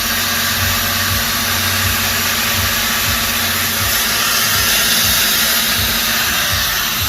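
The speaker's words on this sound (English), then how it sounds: "We got Patrick grinding away, making fitment." An angle grinder grinds metal parts for fitment in a workshop, a loud continuous high-pitched whine with steady broadband hiss and slight load changes, filling the whole stretch without talk.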